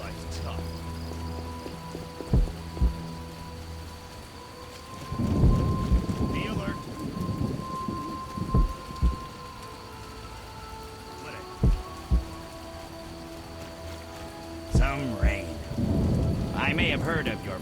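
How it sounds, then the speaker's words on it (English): Steady rain pours down in The Witcher video game, broken by several deep thunder rumbles and cracks, some near and loud, others rolling more softly, with no talk. "the rain has put out the fire"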